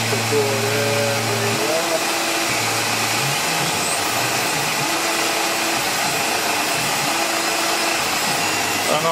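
Tormach RapidTurn CNC lathe running a program with gang tooling: a loud, steady machine whir with shifting tonal hums as spindle speed changes, close and continuous throughout.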